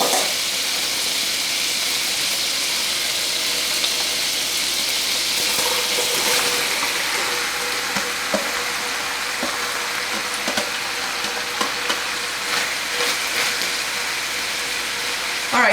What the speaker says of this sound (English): And then the onions are going to go in the pan.